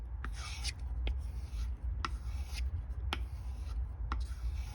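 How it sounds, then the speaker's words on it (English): A tanto knife edge is drawn over a leather strop in light, even strokes, each a soft scraping swipe repeating about once a second, close and quiet with no talk. "Right now I'm stropping the edge"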